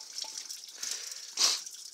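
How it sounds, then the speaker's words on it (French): Water trickles from the rock inside a tunnel, a faint, soft splashing with a brief louder spatter partway through. "il y a de l'eau qui coule de la roche"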